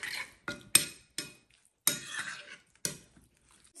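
A spoon clinks and scrapes against a bowl in short, irregular strokes while marinade ingredients and grilling spices are mixed, close and fairly quiet with silent gaps between strokes.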